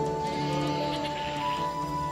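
Several goats bleat in a hillside forest of Garhwal, their wavering cries overlapping over a steady background, moderately close and continuous throughout.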